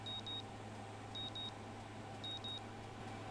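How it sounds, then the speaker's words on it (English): An alarm clock in the Katawa Shoujo video game beeps in three short bursts of paired high electronic tones, evenly spaced over a steady low hum. "My alarm's beeping shatters the early morning quiet"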